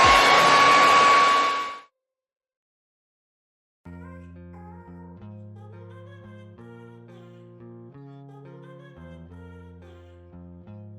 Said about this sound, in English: So diffuser, put it on warm and put it on high, and then I'm just going to diffuse.